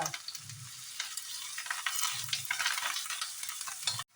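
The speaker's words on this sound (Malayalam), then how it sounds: "കറിവേപ്പിലയും നന്നായി മൂക്കട്ടെ" Curry leaves and sliced onion frying in hot coconut oil for elephant yam upperi, a close, continuous crackling sizzle with a few soft scraping stirs, ending abruptly.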